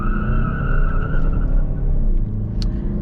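A 2012 Audi A6 2.0 TDI, held on the brake with traction control off, revs loudly with tyres spinning, making a rough, close engine roar with a squealing whine that fades partway through.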